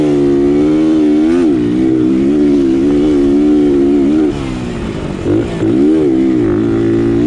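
A Suzuki DR200 motorcycle roars loud and close while ridden fast, its engine note climbing and dipping through repeated revs and gear changes with no talk over it.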